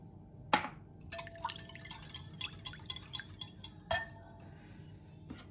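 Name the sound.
milk poured into a bowl of whisked egg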